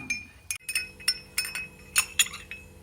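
A spoon stirs Sulaimani tea sweetened with sugar and lemon juice in a glass, giving a string of bright clinks against the glass, close and clear, about eight irregular taps with quiet pauses between.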